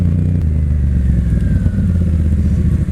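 A BMW R1100RT sport-touring motorcycle's engine runs loud and steady close by, a deep continuous rumble with a light clattery edge throughout.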